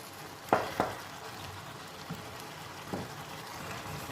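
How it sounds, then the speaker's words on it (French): Minced meat and vegetables for a vegetable lasagne simmering in a pan, with a soft steady sizzle and a few louder clinks and stirring scrapes, close by. "on mélange bien une fois qu'on ajoute la viande hachée. On va laisser tout cuire, tout mijoter tranquillement."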